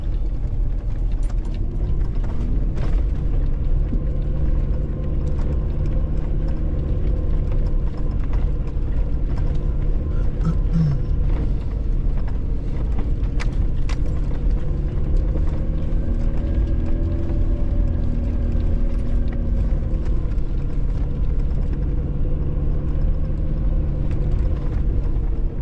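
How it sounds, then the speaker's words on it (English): Car tyres rolling over loose rocks on the McDonald Gap gravel track, a steady close rumble of engine and tyre noise with faint crunching and slipping of stones throughout, no voices. "Actually hear those rocks sort of catching under the tyres and sliding a little bit."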